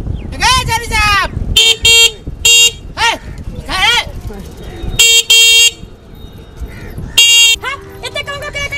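Several loud horn honks, short and long blasts in irregular bursts, amid traffic noise and voices.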